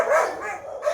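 One of several dogs barks and yelps close by, a brief loud outburst that fills the moment with no talk over it.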